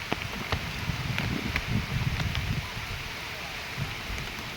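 Heavy monsoon rain and strong gusting wind shaking trees beside Konkan paddy fields during traditional rice transplanting, a steady dense roar with low rumbling gusts rising and falling throughout.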